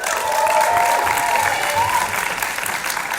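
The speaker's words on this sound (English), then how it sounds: "please give them a round of applause as well" An audience at an Australian film premiere Q&A applauds loudly, a thick continuous roar of clapping mixed with some crowd noise and faint cheering that stays strong throughout.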